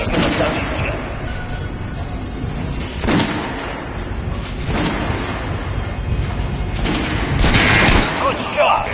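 Gunfire in Metro Redux comes as dense, loud bursts of shots and heavy booms that repeat across the stretch, with game voices speaking over the shooting.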